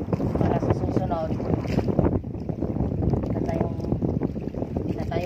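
A fishing boat's engine runs steadily out on the water, a loud constant drone mixed with wind buffeting the microphone, with no talk.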